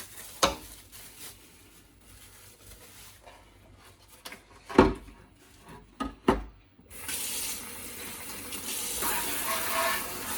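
Running tap water over a plastic Electrolux Twin Turbo vacuum cleaner hood being washed after a retrobrite treatment, scattered knocks and splashes of the part being handled, then a steady gush of water in the last few seconds.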